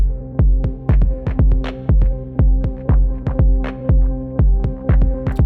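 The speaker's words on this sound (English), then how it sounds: "Leave the kick drum and maybe this dark percussion over here, and then leave the pad." Beat intro of a kick drum, dark percussion and a sustained pad playing together, with steady booming kicks in a regular groove over a held tonal bed, loud and alone.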